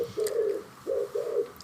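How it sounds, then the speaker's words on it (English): A pigeon coos loudly close to a window, giving three soft, rounded calls separated by short pauses, clear and near with no talking. "Is that pigeon at your house or my house?"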